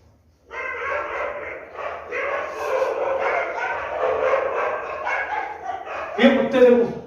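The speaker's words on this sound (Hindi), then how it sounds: "ये कुत्ते देखो" Several dogs bark and yip continuously at a moderate distance, with a louder, closer burst near the end, and people talk over the barking.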